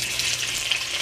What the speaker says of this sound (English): you're gonna add the oxtail pieces to the oil.